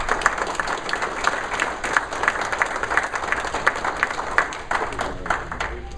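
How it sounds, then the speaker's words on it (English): Audience applause at a city council meeting, a moderate round of scattered individual claps from a modest-sized room, steady for several seconds and heard alone. "So I think they deserve a nice round of applause."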